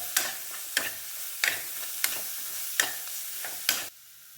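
Masala is sautéed in a pan for a simple sandwich, heard as rhythmic stirring strokes about every half second over a soft frying hiss, stopping just before the end; no speech.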